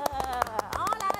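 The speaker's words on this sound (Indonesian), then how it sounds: "Mari kita tepuk dengan kadar kelajuan yang sangat laju." Preschool children clap very fast in a quick, even run of sharp slaps over a faint tonal background, close and steady.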